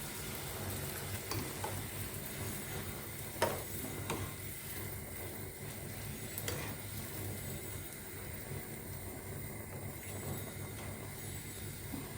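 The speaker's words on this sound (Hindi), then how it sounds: "इसी तरह से हम सब पूरियाँ फ्राई कर लेंगे" Flatbread wrappers fry in a pan with a quiet, steady sizzle, broken by a few light clicks and taps of handling, and no one speaks.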